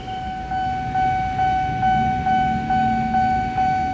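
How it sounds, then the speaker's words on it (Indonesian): A service locomotive passing through Pondok Jati railway station, a low continuous rumble beneath a loud pulsing warning tone that repeats about twice a second, close and steady throughout. "Bentar lagi ada lokomotif dinas nih dari Pasar Senen ke arah Jatinegara masuk Depo Cipinang."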